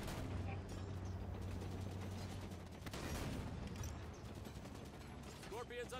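Gunfire rattles against a Scorpion tank in the Halo 5 Guardians campaign on the planet Genesis, a dense, continuous barrage of shots and mechanical clatter with game noise throughout and rising tonal effects near the end.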